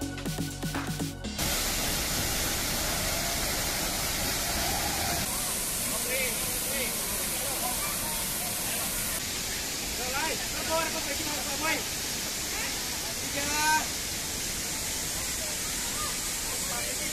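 The Tongkat waterfall in Langkat, North Sumatra, gives a steady, dense rushing hiss throughout, with voices occasionally heard over the roar.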